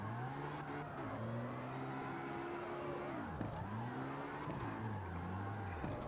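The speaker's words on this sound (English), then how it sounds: "I'm driving through the city now, and I have not stopped drifting" Car engine in the CarX racing game drifting through city streets, a steady droning mid-pitched whine that rises and falls with throttle changes, sustained and close, with no talk.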